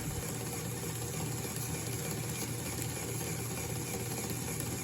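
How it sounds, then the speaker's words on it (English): A small Lego pneumatic air compressor engine running steadily, a faint continuous mechanical hum and whir with an even, unbroken rhythm and no talking. "So now turning this engine over"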